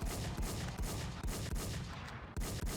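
Rapid bursts of video game gunfire crackle loud and close, with repeated volleys separated by brief gaps, during boss farming on an old-style private server.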